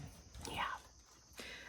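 A dog lets out one faint, rising yelp indoors, followed by a brief second sound, against a quiet background where a person is also talking.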